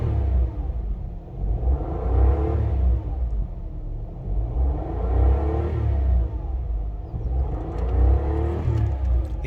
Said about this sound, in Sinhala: දැන් අපි වාහනයකට ඕවර්ටේක් කරනකොට එහෙම මේ සද්ද එනවා ඔබට ඇහෙනවා ඇති.